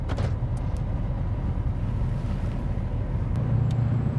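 A steady low engine rumble from inside a moving diesel truck, continuous road and motor drone with no talking.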